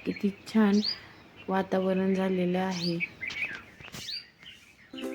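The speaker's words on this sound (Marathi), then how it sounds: "इथे चिमण्यांचा चिवचिवाट" Sparrows chirp in the morning at a village farm near a temple, a lively series of bright, quick chirps and trills close by, interleaved with someone speaking.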